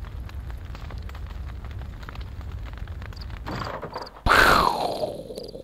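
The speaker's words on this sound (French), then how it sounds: "Explosion." A sudden loud explosion in the god game Black and White 2 bursts out after a stretch of steady rumbling ambience, with a bright blast that decays over about a second.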